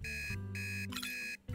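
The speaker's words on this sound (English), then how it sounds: "What's that alarm?" An office-management video game's alarm beeps in repeated bright, steady tones with short gaps, fairly loud and alone, set against a low hum.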